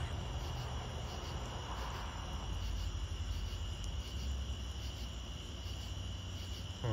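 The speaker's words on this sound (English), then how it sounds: "Crickets are out there, and locusts," Crickets chirping in an evening backyard, a continuous high-pitched trilling chorus that stays steady and fairly faint against a low background hum, with no talking.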